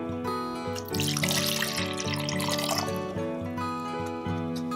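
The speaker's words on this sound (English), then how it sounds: "Now I'm going to pour my water into my bowl." Water is poured from a cup into a bowl for a kids' science experiment, a short splashing, trickling pour heard over steady background music.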